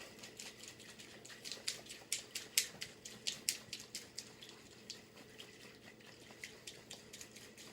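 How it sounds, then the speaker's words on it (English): A cocktail shaker holding a drink, the St Sauveur, is shaken hard, giving a fast run of rhythmic rattling clatters of ice against metal, fairly close and moderately loud, with no talking. "Shake that up pretty good"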